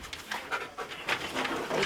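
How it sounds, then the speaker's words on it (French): A drug-sniffing police dog pants rapidly and steadily close by, with quick breathy huffs repeating throughout. "C'est un chien spécialisé stup"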